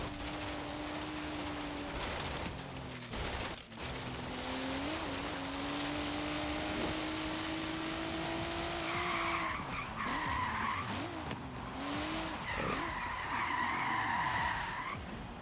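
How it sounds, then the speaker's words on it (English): A fast car in a racing video game, engine whining through shifting revs while the tires skid and squeal in repeated bursts, loud and continuous with a hiss like rain under it. "Man, that car's fast."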